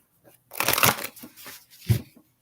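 Worn tarot oracle cards riffle-shuffled by hand in quick papery bursts, a busy flurry followed by a softer pass and a final snap, close and without talk.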